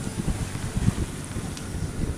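Wind buffeting a sailboat at sea off Corsica, blowing head-on over a swell, a steady rough low rumble with gusty roars and faint water slap, no voices.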